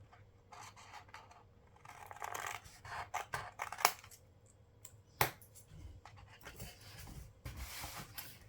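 Paper being trimmed for a bullet journal, with quiet rubbing and snipping sounds, a few sharp clicks, and soft handling noise close to the listener.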